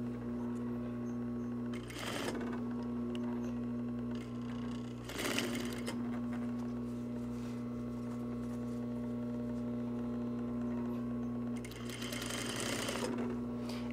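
Sewing machine stitching a half inch seam on a reversible jacket, a steady close mechanical hum with a few short louder bursts of stitching.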